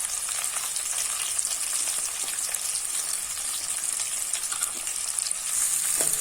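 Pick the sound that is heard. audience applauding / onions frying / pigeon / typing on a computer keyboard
onions frying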